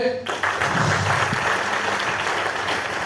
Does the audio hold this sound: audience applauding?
yes